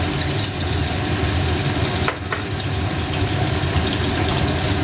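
Ginger and garlic fry in hot oil for Bengali-style tel koi, giving a loud, dense, continuous sizzle and crackle heard up close with a brief dip partway through and no talk.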